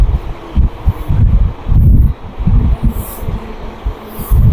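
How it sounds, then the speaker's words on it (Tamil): Strong wind buffets a moving train on the run from Rayakottai to Bangalore, roaring loud and close with gusty rumbling bursts and microphone buffeting, no voices. "அந்த அளவுக்கு காத்து சும்மா அப்படியே புரட்டி போட்டு எடுக்குது"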